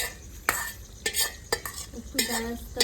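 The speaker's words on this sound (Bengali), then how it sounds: "পেঁয়াজটা ফ্রাই করে নিয়ে নাও একটু পেঁয়াজ দিয়ে দাও ফ্রাই করে একটু" Onion frying in a pan for a chicken curry, with soft sizzling broken by several sharp scraping strokes of a spatula stirring at irregular intervals, close and fairly quiet.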